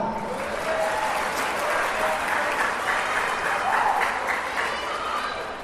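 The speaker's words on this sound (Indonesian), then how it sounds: "Tepuk tangan." A school audience at a Maulid Nabi gathering at SMA Hang Tuah 2 Sidoarjo gives steady, dense applause, a broad wash of many hands clapping for several seconds with faint voices mixed in.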